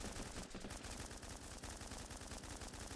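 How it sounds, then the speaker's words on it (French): Rapid rifle gunfire in the game Running With Rifles, a steady stream of sharp automatic shots in quick rhythm, continuous and fairly quiet, with no talking. "Je tire à l'arrache mais je tire, on sait jamais."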